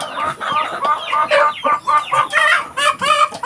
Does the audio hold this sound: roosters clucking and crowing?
yes